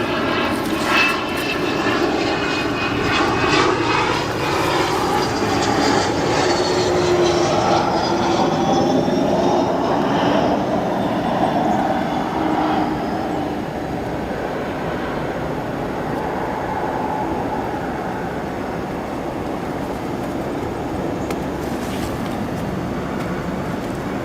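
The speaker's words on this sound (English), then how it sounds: "There we go, thrust reversers now. After touchdown on 10 center." A NetJets business jet lands at O'Hare and deploys thrust reversers, giving a steady, loud jet engine roar with whining tones that rises, then settles into a continuous rumble.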